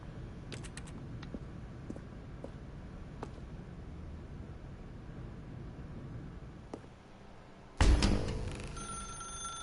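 A telephone bell rings out abruptly in The Stanley Parable video game, a loud close jangle that bursts in after a stretch of quiet ambient clicks and then lingers as a decaying metallic ring.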